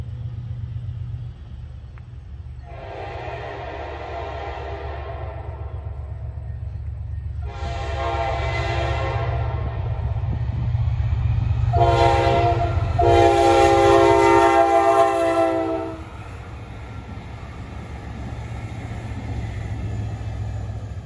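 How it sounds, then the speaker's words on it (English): An Egyptian Railways ES30ACi test train on the Wabtec test track rumbles past with a low steady roar while its horn sounds several loud blasts, two long, then a short one and a longer one. "here's the test train again"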